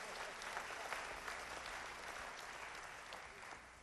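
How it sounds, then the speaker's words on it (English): Audience applause at a professional speaker's presentation, a steady, even patter of many hands clapping throughout, fairly faint and uninterrupted. "You owe Wanda a big round of applause because she's helping you."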